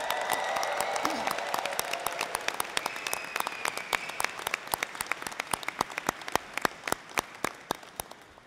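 Graduation ceremony audience applauding and cheering: a burst of cheers and whoops over full clapping at first, thinning gradually into sparser, distinct individual claps as the ovation winds down.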